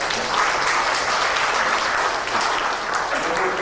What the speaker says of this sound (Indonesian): Tepuk tangan ini juga dari Polban.